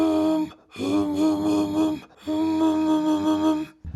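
Attempted polyphonic subharmonic whisper vocal technique, a beatbox-style voice holding rich buzzing tones in two sustained phrases separated by a short breath gap, fairly loud and close with no talking.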